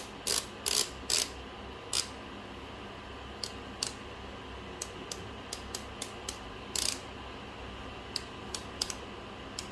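A Millwright hand coffee grinder's setting adjustment ticks out sharp, close clicks, first a few loud separate ones, then a rapid run of lighter clicks with brief pauses, in an otherwise quiet room.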